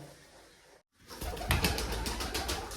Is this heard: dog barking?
no